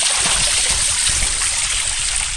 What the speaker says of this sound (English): A nice fountain, produces a lot of noise.